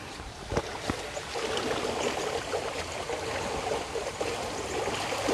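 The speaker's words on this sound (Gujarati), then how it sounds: "કેટલું ફાસ્ટ પાણી જઈ રહ્યું છે મિત્રો, તમે વિડીયોમાં જોઈ શકો છો।" Fast-flowing water rushes through a canal, a steady broadband roar with a few brief splashes near the start, heard alone without talk.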